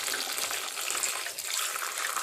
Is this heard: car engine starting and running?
no